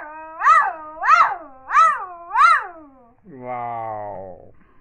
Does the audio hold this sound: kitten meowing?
yes